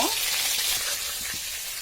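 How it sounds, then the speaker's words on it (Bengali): Chicken meat frying in a pan of hot oil, a dense, steady sizzle and crackle that fills the whole stretch, close up and even in level. "তো মাংস ভাজা হোক তারপর আমরা আবার চলে আসতেছি"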